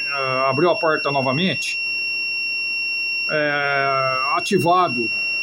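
A steady high-pitched multimeter continuity-test beep holds in the background while someone talks over it, with a longer buzzing tone in the middle.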